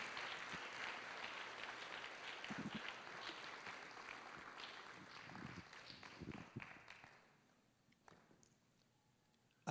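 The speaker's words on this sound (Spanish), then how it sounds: "Me permiten pedirles un aplauso" A church congregation applauds in a steady wash of clapping for about seven seconds, then the sound dies away into near silence.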